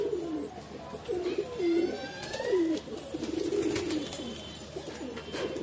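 A pigeon coos softly while being handled up close, repeated low throaty coos over steady background noise, with no voices.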